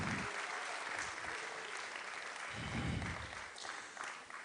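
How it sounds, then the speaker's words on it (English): An audience at a celebration for Big Brother Naija breaks into loud, sustained applause, with dense clapping running continuously from start to finish and a faint voice briefly audible underneath. "a round of applause."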